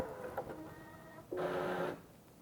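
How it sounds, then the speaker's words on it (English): An espresso coffee grinder starting up as its grind setting is adjusted, a brief whirring motor burst with a tonal hum following a softer mechanical click, close and fairly quiet. "you'll notice the grinder will turn on as it adjusts the grind setting."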